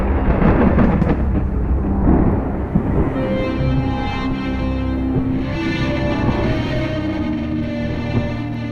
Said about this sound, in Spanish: producen ondas de choque que a la vez generan el típico y ensordecedor sonido del trueno